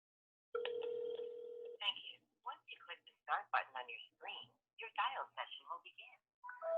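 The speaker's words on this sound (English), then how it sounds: "I'm going to dial this number here." A phone call is placed to a number: a steady tone sounds for over a second, then a rapid series of short electronic beeps and tones follows, moderately quiet.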